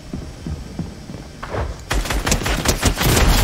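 Rapid bursts of video game gunfire during a battle-royale match, starting as faint scattered shots and swelling after a moment into loud, dense volleys over a steady low hum.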